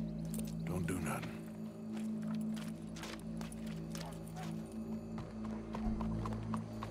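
Horse hooves clip-clop in a steady walking rhythm inside the game Red Dead Redemption 2, moderately close, with bits of speech and game ambience mixed in.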